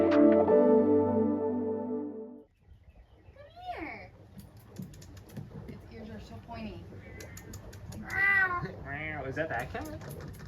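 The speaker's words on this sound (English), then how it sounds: "Is that cat?" A cat meows several times in short, rising calls at moderate distance outdoors in Ubud, Bali, after a brief burst of music at the start, with faint background noise between the cries.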